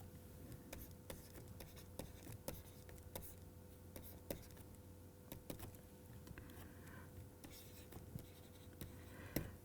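Chalk or marker tapping and scratching on a board during a mathematics lecture: irregular close ticks and strokes over a steady low room hum, with faint speech at times.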